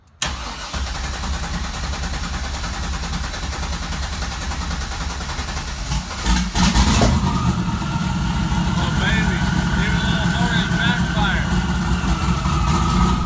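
A car nicknamed Leroy, due for a clutch swap, cranks and starts around the six-second mark on a freezing day, then settles into a loud, rough idle with rising revs. Steady outdoor noise comes before it, and a voice talks over the running engine.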